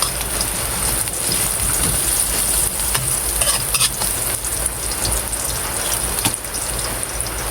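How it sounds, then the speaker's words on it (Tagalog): Steady rain patters outside, a dense continuous wash of drops beneath close sizzling and stirring from garlic sautéing for mung bean stew, with a faint high whine in the background and no voices. "Bali po ngayon ay umuulan dito."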